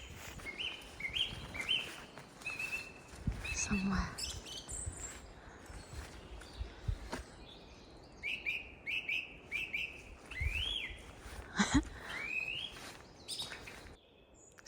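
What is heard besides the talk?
song thrush singing repeated phrases in a tree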